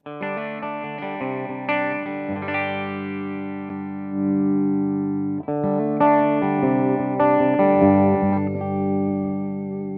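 Overdriven electric guitar on a humbucker pickup plays sustained chords and phrases with a thick, slightly distorted tone and light effects, loud and continuous with no talking.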